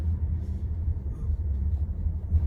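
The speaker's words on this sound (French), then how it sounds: "je vais juste passer les plaques d'égout" A Mercedes-Benz GLC Sportline 250 4MATIC SUV rolls over manhole covers, giving a low, muffled cabin rumble with soft thumps as the wheels cross them. The sound is steady, heard from inside the car.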